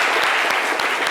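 Studio audience applause on a French-language talk show, a dense, steady burst of many hands clapping that fills the whole second at close range without any speech over it.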